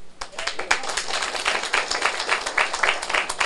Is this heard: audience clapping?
yes